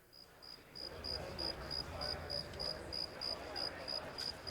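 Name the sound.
crickets chirping indoors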